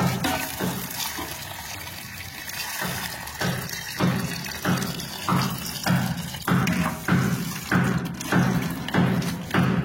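Tap water runs and splashes steadily while fresh chillies are rinsed by hand in a kitchen, with rhythmic sloshing and soft thuds as the chillies are rubbed and turned under the flow.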